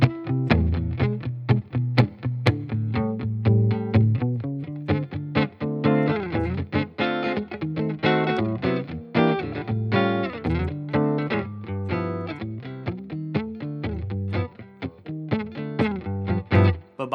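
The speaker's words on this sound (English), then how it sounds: "So I just want you to hear the guitar with just the pickup." A Gretsch G9555 New Yorker archtop guitar played through its pickup alone, with punchy strummed chords and short choppy stabs in a loud, clear, rhythmic sequence and no talking.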